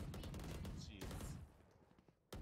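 Rapid bursts of automatic gunfire rattle in quick succession in the tactical shooter Valorant during an esports playoff match, dense and close, then a sharp final shot after a brief lull, with faint voices underneath.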